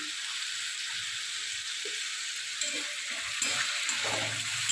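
Gram flour (besan) fritters frying in oil, a continuous bright sizzle that holds steady throughout, with a few soft low knocks beneath it.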